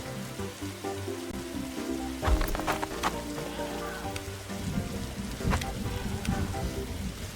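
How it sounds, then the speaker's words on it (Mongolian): Rain falls steadily during a thunderstorm in the video game 99 Nights, a soft continuous patter broken by several sharp, bright crackles and thumps, with no talk over it. "цахилгаантай бороо орцлоо"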